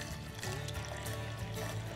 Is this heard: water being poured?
yes